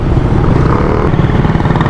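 A Suzuki Raider motorcycle engine running up close, a loud continuous throaty rumble with a rapid, slightly uneven exhaust pulse and no voices.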